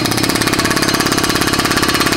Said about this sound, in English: All we're doing with the air hammer is essentially just vibrating it.